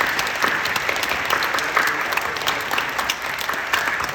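A church congregation at a Saturday family dawn service claps warmly to encourage the next generation, dense continuous applause filling the sanctuary.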